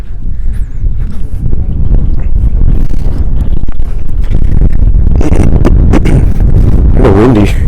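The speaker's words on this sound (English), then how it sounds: "It's kind of windy" Wind blows by the water at Buffalo Bayou in Houston, roaring as loud, steady buffeting against the microphone throughout, with brief rustles and bumps toward the end.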